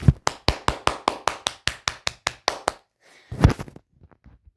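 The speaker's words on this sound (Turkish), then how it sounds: "Bir alkış alabilir miyim lütfen?" About a dozen steady, evenly spaced hand claps ring out close and crisp at a wedding, then stop abruptly before a brief voice speaks.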